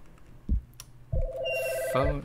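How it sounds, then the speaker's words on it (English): An electronic telephone rings in a video game, a steady warbling tone following a couple of soft thuds, fairly close and clear with no talk over it. "The phone is ringing."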